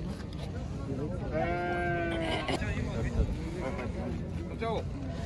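Sheep bleat at a livestock market, several wavering calls rising over a crowded bustle while people talk and haggle nearby.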